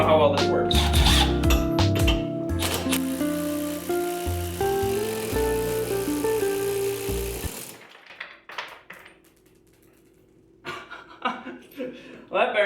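A bearing pulled off a Honda Type R limited-slip differential, starting with a loud, harsh mechanical buzzing and whining for several seconds, then dropping to scattered clicks, scrapes and clatter close by.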